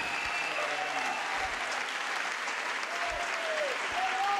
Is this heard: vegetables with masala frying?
no